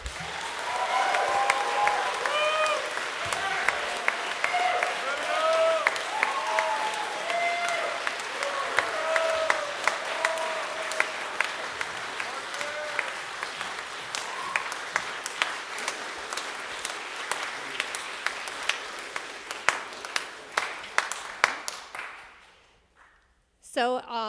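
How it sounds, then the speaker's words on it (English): Audience applause at a Boy Scout troop Court of Honor ceremony honoring Eagle Scouts, steady sustained clapping from a crowd lasting about twenty seconds before fading out abruptly, with a few sharp individual claps standing out. "Let's give them one last round of applause."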